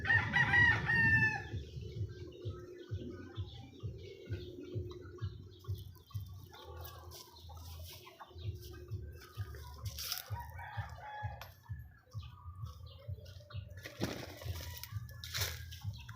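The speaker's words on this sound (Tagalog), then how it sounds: "Yan nagpapakain na siya ng manok." A rooster crows at the start, then hens cluck steadily during feeding over a low background rumble and some splashing water, with further crowing later on.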